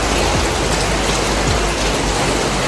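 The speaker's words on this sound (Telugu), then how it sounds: "బయట కూడా వర్షం సౌండ్ వినిపిస్తుంది మీకు" Steady rain pours down outside a home in Bangalore, a dense, even hiss of drops on surfaces with no voices.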